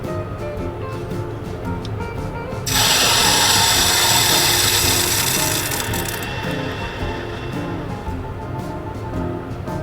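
Water rushes into sprinkler system pipes as they pressurize at start-up, a loud hissing surge lasting a few seconds over a constant mechanical hum, then settling down.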